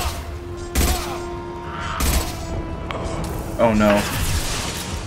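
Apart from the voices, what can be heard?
gunfire in video game Mass Effect 2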